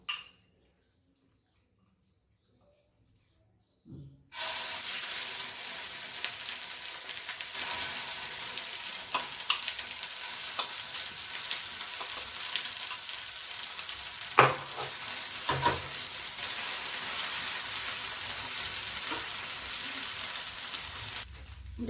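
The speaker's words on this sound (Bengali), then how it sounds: "ছ্যাক ছ্যাক ভাব একটা হচ্ছে" Cauliflower leaf paste sizzles in a wok and is stirred. After a few seconds of near silence, a steady, close frying hiss begins, broken by occasional scrapes and clicks of the spatula.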